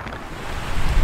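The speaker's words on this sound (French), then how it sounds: "ce qui frappe quand on arrive à l'île aux grues, mis à part la beauté du paysage, c'est le vent" Strong wind on Île aux Grues gusts loudly across the microphone in a brief, rough roar that swells toward the end.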